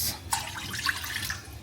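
Water poured from a tap for making sugar syrup in a kitchen, a short close splashing stream with a sharp drop onset, steady and alone.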